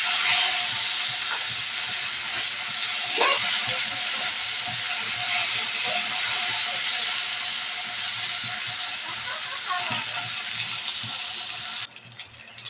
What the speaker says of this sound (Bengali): মাছটা একটু ভাজা হয়ে গেছে, এখন উল্টিয়ে দেব।